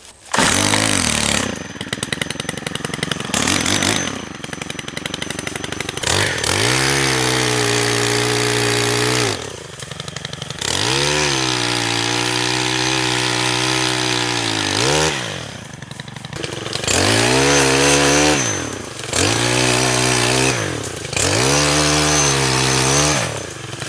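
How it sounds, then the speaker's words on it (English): Gas-powered telescoping pole saw cutting tree branches outdoors, its two-stroke engine droning loud and close in repeated revving bursts that rise and fall as limbs are cut, with short idling dips between cuts. "I've got the pole saw, so this thing actually telescopes out."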